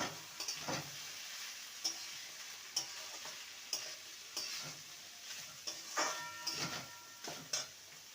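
A spatula stirs banana stem curry with spices in a pan, giving repeated scraping strokes at a slow, regular rhythm over a soft, quiet sizzle, with no voices.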